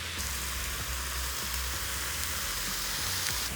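Steak sizzling with provolone cheese on a hot cooking surface, a steady close frying hiss with faint crackles, alone with no voices.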